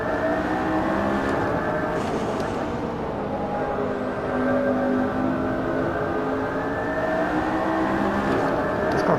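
Continuous engine roar of a hypercar (Porsche 918, McLaren P1 or LaFerrari) in the Assetto Corsa racing game, loud and steady with sustained revving across the whole stretch.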